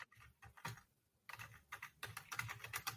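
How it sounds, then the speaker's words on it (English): Quiet, close typing on a computer keyboard, irregular bursts of key clicks with a short pause in the middle, no voices present. "Sorry, I was typing a comment."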